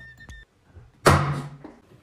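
A toy soft-bullet pistol fires once with a sharp, close thump followed by a brief rattling decay, preceded by a faint click and small handling noises.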